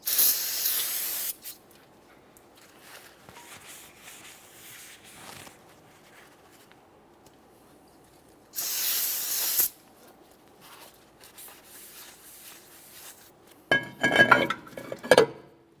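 Cleaner sprays onto the braking surfaces of a new rear brake rotor on a 2015-2019 Subaru Outback, in two loud hissing bursts a few seconds apart, followed by metallic clinks near the end, with no talking.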